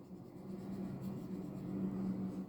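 Crayon or pencil colouring on paper at a steady pace, a continuous soft scratchy rubbing close by with a low background hum, no speech.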